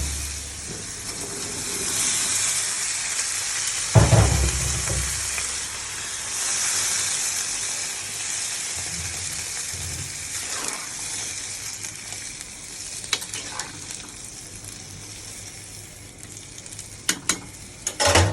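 Pumpkin, papaya and new potatoes fry steadily in spice paste in a pan. The hiss runs continuously and is broken by louder stirring clatters and scrapes, and no one talks.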